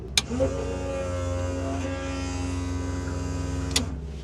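Electric fuel boost pump running in the cockpit of an Extra 300L aerobatic aircraft before engine start, a steady close electric whine and hum lasting about four seconds between two sharp clicks of the switch, with no talk over it.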